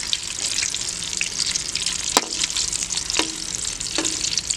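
Medium-sized potatoes fry in oil in a pan for Kashmiri dum aloo. A bright, bubbling sizzle runs steadily throughout, broken by a few clinks and stirring scrapes.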